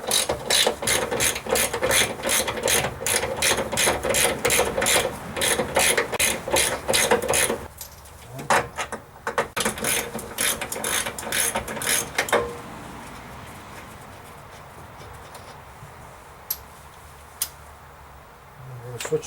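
A socket wrench ratchets in fast, rhythmic clicking bursts while removing the lower nuts of a transmission mount on a Dodge Ram 2500 5.9 Cummins, close and loud. The clicking then stops, leaving a few isolated clinks.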